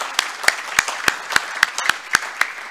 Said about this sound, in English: let's give them all a good round of applause